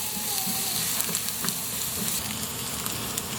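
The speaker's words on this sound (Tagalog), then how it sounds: "I-brown po natin ng konti ang ating bawang para lumabas ang lasa niya" Chopped garlic browning in a hot pan, a thin continuous sizzle with faint crackles throughout, close and steady with no voices.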